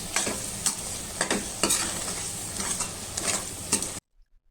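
Chilli powder, turmeric and coriander powder sizzle softly in a pan over a low flame while a spoon scrapes and stirs in quick irregular strokes, ending in silence.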